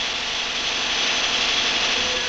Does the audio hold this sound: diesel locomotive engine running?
yes